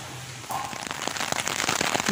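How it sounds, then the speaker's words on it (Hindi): Dense heavy rain patters and crackles on a rooftop close by, a steady rushing hiss with scattered louder drops. "बारिश काफ़ी तेज़ हो गई है"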